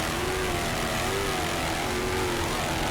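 Aircraft engine drone from a helicopter flying over the Miami Beach shoreline during the 2002 Miami Grand Prix, a steady broadband wash with faint tonal engine lines, continuous and fairly distant, no voices.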